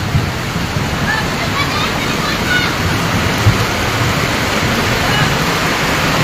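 Heavy rain pours during a flood around houses, with rushing floodwater carrying large logs and debris; a steady, dense roar of water and rain fills the whole clip at close range, with faint voices under it.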